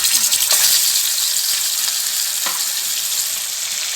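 Marinated chicken pieces fry in hot oil for a Thalassery chicken dum biryani, giving a loud, dense, continuous sizzle up close with a couple of faint clinks of a utensil.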